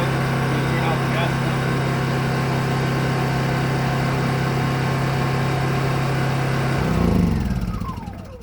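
A Honda EU2200i inverter generator converted to run on propane hums steadily and loudly at close range, then its engine note drops and winds down as it shuts off near the end.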